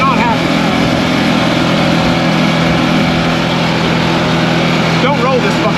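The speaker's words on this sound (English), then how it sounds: "Doesn't sound very good. Nah, it's just the muffler though." A car engine with a broken muffler that was welded back together runs with a loud, steady, raspy rumble throughout, while people talk over it.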